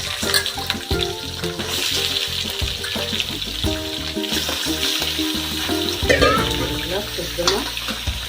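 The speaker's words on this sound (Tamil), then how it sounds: "ஒரு கிலோ சிக்கன் போடலாம்." Chicken pieces, about a kilo, frying and sizzling in a pan for a Tamil home-style chicken curry, with steady loud crackling and occasional stirring scrapes throughout, no voices.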